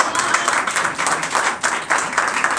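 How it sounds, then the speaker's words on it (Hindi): An open mic audience in Delhi breaks into sustained clapping, a dense, steady wash of applause that carries on throughout. "यारी के नाम पे एक बार जम के ताली बजा दीजिए।"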